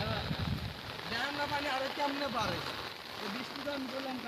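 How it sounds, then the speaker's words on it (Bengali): Heavy rain during a low-pressure storm patters steadily and close by while someone talks over it. "দেখুন বৃষ্টির কি অবস্থা"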